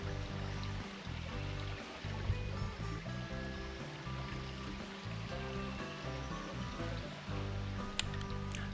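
Robinson Falls on the NSW Central Coast, a distant waterfall heard as a dense, continuous rushing hiss along a bush track, steady and fairly even, with a low rumble mixed in and no talking.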